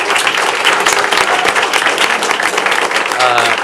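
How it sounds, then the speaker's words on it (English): A packed room at a city commission meeting claps for the assistant coach, with dense, steady applause filling the whole stretch, loud and close, plus a few scattered voices under the clapping. "If we can give him a round of applause really quickly"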